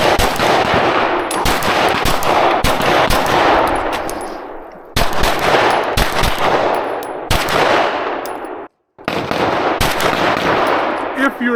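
Rapid pistol gunshots from a USPSA Carry Optics run ring out in dense strings of loud, sharp cracks, with two brief gaps between volleys and a very short silence near the end.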